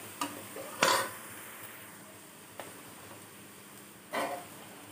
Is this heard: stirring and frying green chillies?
yes